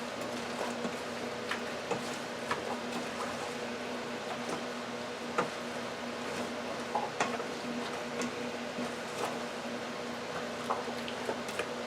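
Bourbon goat stew being stirred in a pressure cooker pot, a steady bubbling, squishing wash with faint scattered clicks of the spoon against the pot, continuous and fairly close.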